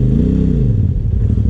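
A motorcycle engine revs steadily and loudly at close range on a rocky off-road trail, the pitch rising and then settling into a rough drone.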